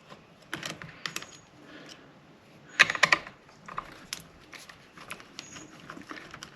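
Two 10 millimeter screws being taken off a Husqvarna 128LD string trimmer, with close metallic clicks, ratcheting taps and small clinks in irregular bursts, a loud cluster in the middle.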